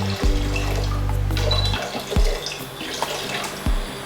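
Tap water runs steadily into a cooking pot while making chilli halwa in a home kitchen, a continuous close gushing with brief clanks and pauses as the flow stops and restarts.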